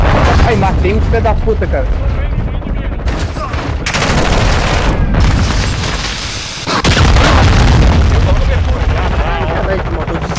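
A missile strike in Call of Duty Modern Warfare II lands among heavy, continuous gunfire and deep booming blasts. Someone talks excitedly over the loud, dense battle noise.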